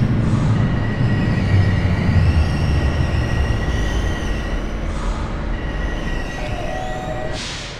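A train runs continuously in the OpenBVE train simulator game, with a loud rumble, rolling wheel noise and thin high squeals, and no talk over it.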